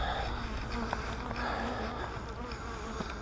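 Honey bees buzz continuously around opened hives while honey supers are being pulled, a dense, steady hum of many insects nearby with no voices.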